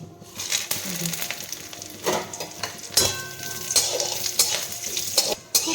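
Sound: frying whole spices and bay leaves in ghee

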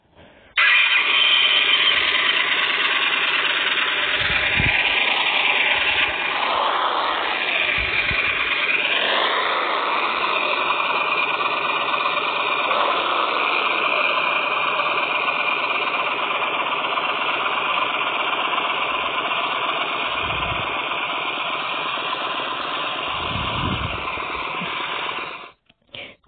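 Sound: Yamaha V-Star 1300 Tourer motorcycle engine starting and idling

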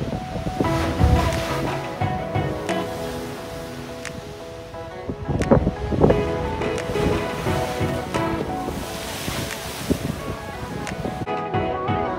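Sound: ocean waves surging through the Kiama blowhole tunnel

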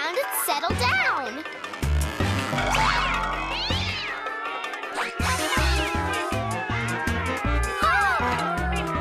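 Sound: cartoon cats meowing

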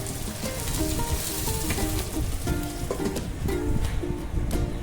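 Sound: ridge gourd curry simmering in oil on low flame

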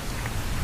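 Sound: rain falling in Minecraft, video game

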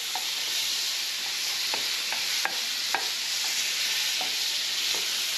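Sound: butter melting and sizzling in frying pan over medium heat

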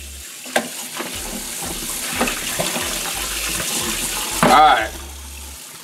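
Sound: running water rinsing pork neck bones

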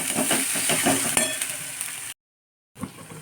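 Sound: masala frying in oil with tomato added

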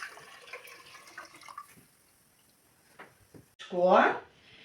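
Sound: pouring water and milk into a pot

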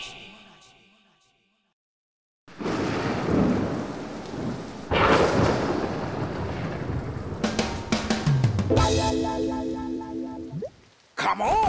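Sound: rain and thunder in a cartoon

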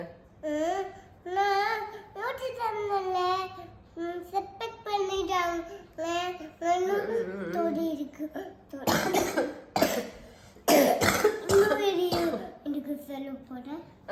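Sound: coughing

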